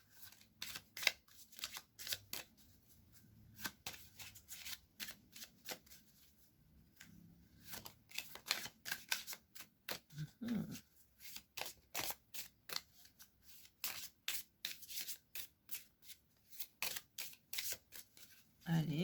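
Oracle cards are shuffled in quick, crisp riffles close by, the rapid flicking repeating in bursts, with someone speaking French softly between them.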